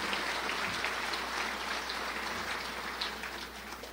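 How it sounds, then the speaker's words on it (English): A round of applause at the Crown Point State of the City address, a dense, even wash of clapping from a large room, sustained and slightly distant, easing off near the end. "let's put our hands together for a round of applause for you guys"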